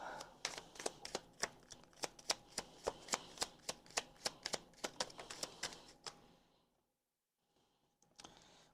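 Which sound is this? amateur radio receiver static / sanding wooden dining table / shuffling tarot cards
shuffling tarot cards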